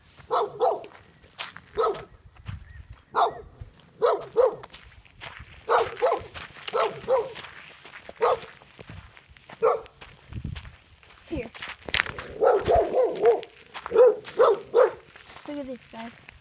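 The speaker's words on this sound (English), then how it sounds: "that's our neighbor's dog" A neighbor's dog barks repeatedly in short bursts outdoors beside a house and garden, moderately near, with people talking over and between the barks.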